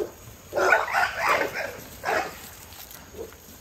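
Dogs barking outdoors at fairly close range, in a cluster of rough barks in the first seconds, another short burst a moment later and a faint final yip.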